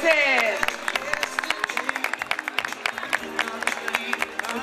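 An audience claps rhythmically and cheers for a newly crowned national pageant queen, Dorado 2015, while an announcer keeps talking loudly over the applause.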